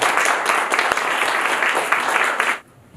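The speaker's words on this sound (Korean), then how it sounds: "박수 한번 해주실까요?" A church congregation gives a warm burst of applause during a Sunday worship service. It sounds dense and roomy, stays steady for about two and a half seconds, then quickly dies away.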